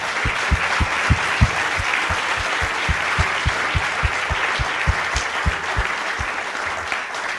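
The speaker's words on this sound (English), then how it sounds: "Please, a round of applause." An audience at a university symposium breaks into steady applause. Sharp, close claps keep a regular rhythm over a dense background of clapping from the crowd and hold for about seven seconds with no voices.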